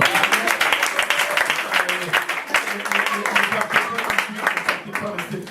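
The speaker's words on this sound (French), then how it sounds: "On va les applaudir." Church congregation at a French-language Father's Day service bursts into lively applause, a dense, loud stream of clapping with voices and cheers mixed in throughout.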